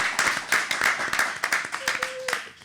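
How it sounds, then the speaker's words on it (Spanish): An audience applauds at the close of a day of an academic conference, a dense, steady patter of many hands clapping close by for a couple of seconds, with a brief voice underneath. "Un fuerte aplauso para cerrar esta"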